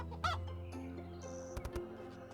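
Chickens cluck a few times amid a busy mix of sounds in a ranch farm simulator game, with a couple of sharp taps near the end; moderately loud.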